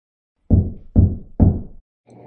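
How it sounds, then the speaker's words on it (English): Three firm knocks rap on a wooden cottage door in an even rhythm, close and clear, followed by a faint low hum. "The grasshopper knocked on the cottage door."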